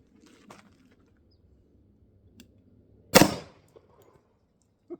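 A single 10 mm gunshot fired into a target bursts out loud and sharp mid-clip, decaying quickly, with a few faint clicks and rustles around it and no talking.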